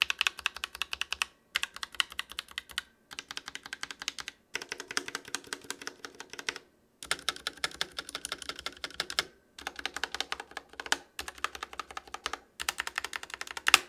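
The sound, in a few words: typing on ROG Scope RX mechanical keyboard switches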